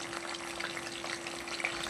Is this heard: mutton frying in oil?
yes